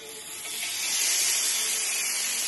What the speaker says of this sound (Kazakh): Енді біз гриль сковородкамызды дайындап осыған кірісеміз қуыруға.